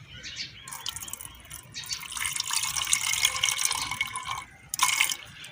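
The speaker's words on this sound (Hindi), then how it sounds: "गुड़ डाल के आप इसके अंदर पानी भी ऐड करें।" Water is poured into jaggery syrup in a thin, continuous splashing stream that runs for several seconds, ending with a brief louder splash, quiet and close.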